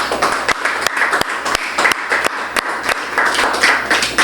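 A church congregation applauds steadily during a sermon with dense, continuous clapping that swells slightly toward the end, loud and close.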